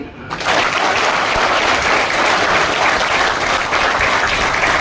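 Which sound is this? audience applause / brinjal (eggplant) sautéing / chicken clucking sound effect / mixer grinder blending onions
audience applause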